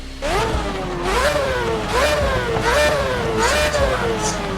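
An F1 car engine in Assetto Corsa revs repeatedly, rising and falling in four or five rhythmic high-pitched sweeps. The revs are loud and close with no talk over them.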